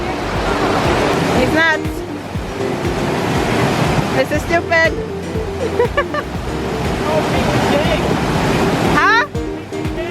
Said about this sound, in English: this waterfall was the Lower Dune